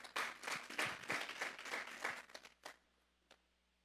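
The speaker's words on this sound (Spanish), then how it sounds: "Vamos a darle un fuerte aplauso pues al Señor." A church congregation at a Sunday service claps together for a couple of seconds, a brisk burst of applause that quickly fades to a few stray claps, moderately distant.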